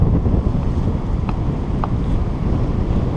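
Strong wind buffeting the microphone at a bank while crabbing at Half Moon Bay, a loud continuous rumbling roar with a couple of faint higher tones.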